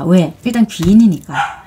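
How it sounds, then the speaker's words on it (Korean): A pet dog barks indoors, giving three or four loud, close yaps in quick succession while a person speaks over them. "저희 강아지가 좀 짖어가지고"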